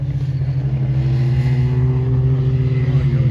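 Whalen turbo Can-Am X3 side-by-side roars at full throttle during a drag race against other supercharged machines, a loud sustained engine drone with rising pitch as it accelerates, close and continuous without speech.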